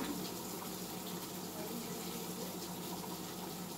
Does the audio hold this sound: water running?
yes